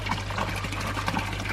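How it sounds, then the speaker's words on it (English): Water flows and splashes steadily across the back of a garden pond fitted with air stones, a soft, continuous rushing trickle heard at low volume. "water returns, water flowing, crashing across the back of the pond"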